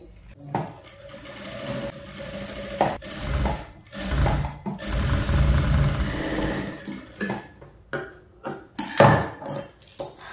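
A sewing machine stitches a blouse seam on a 32–34 size princess-cut blouse in bursts of whirring with pauses and clunks of handling between runs, close and fairly loud.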